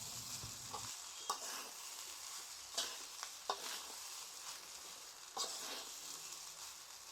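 Fish-head muri ghonto with raisins and halved green chillies being stirred in a pan: quiet scraping and clinking strokes of a spoon at irregular intervals over a soft, constant sizzle, with no talking.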